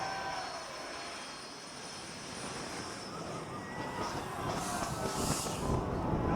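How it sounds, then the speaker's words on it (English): Airplanes pass low over a beach on St. Martin, a broad, rising roar of engine noise that swells toward the end with steady rushing wind and surf underneath. "you'll have to deal with a couple planes once in a while, maybe several"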